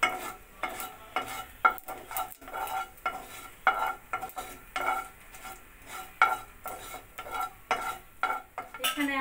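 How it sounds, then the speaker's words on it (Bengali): Dry red chilli and black cumin sizzle in hot oil as a tempering for a matar daal with winter vegetables, under a steady soft frying hiss broken by repeated rhythmic stirring scrapes of a ladle against the pan. "আমি এতে 1টা শুকনো লঙ্কাকে ফাটিয়ে দিলাম ফোড়নে, দিচ্ছি 1/2 চামচ মতো কালো জিরে।"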